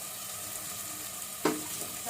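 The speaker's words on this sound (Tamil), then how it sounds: "அடுத்து இப்போ நம்ம கட் பண்ணி வச்சிருக்க கேரட்டு பொட்டேட்டோ எல்லாம் போட்டுடலாம்." Cut carrots and potatoes drop into a hot pan with a short clatter and rise of sizzle over steady background frying, the pan hissing faintly before and after the addition.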